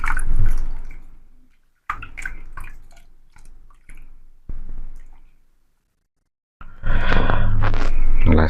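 Small splashes and drips come in uneven bursts as lye solution is poured gradually into a tulsi soap mix. The sound is near and wet, falls silent briefly, then swells into a fuller pouring splash at the end.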